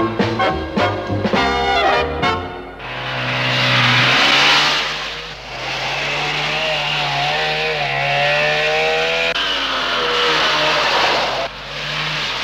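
A Trabant 601 two-stroke car engine accelerates, with a buzzing rasp that rises and settles in pitch over several seconds, loud and near. Musical tones open the clip before the engine takes over.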